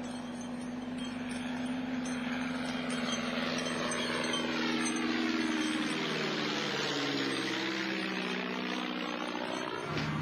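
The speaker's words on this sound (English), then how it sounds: "the noise of the spotter plane, reminder of the king's constant danger" A spotter plane's propeller engine drones steadily, its tone shifting and swelling louder as the aircraft draws closer, with no voices over it.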